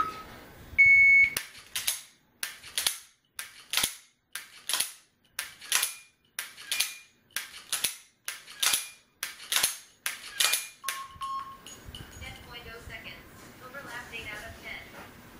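A SIG P365XL pistol dry-fired at a laser training target, ten sharp clicks in a quick steady rhythm over about ten seconds, each followed by a brief electronic tone, with a start beep at the beginning and a long beep at the end.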